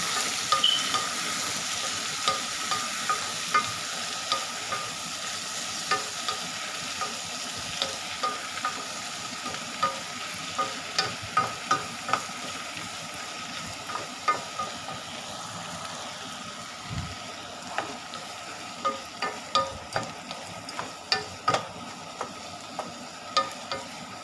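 Beef frying in a pan while being stirred, a steady soft sizzle with repeated scraping and clinking strokes of a utensil against the pan, close and fairly quiet, no talk.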